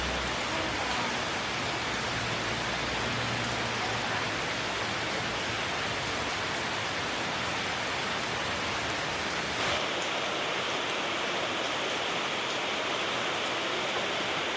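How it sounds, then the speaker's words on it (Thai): Steady rain pours down during a rainy-season trip in northern Thailand, a dense continuous hiss that stays loud throughout, with a low rumble early on and a slight change in texture near the end. "บรรยากาศฝนตก"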